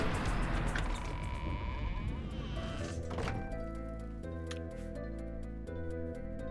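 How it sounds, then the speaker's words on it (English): A sheep bleats in the video game Oblivion, a few short bleats over a soft game soundtrack, with a muffled thump near the middle. "Hey, somebody let the sheep out. Anybody gonna get that sheep?"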